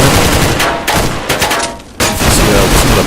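Steyr AUG rifle fire in the video game Counter-Strike Global Offensive, loud sustained automatic bursts broken by brief pauses, dense and close throughout.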